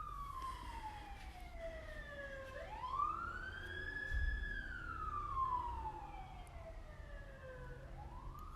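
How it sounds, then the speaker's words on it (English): An emergency vehicle siren wails past a house, its long rising and falling sweeps heard at moderate distance over a low background rumble, with no one speaking. "there's a lot of sirens lately"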